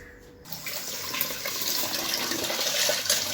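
Millet grains and urad dal being washed in water, a steady close rush of splashing and running water that starts abruptly and continues without talk.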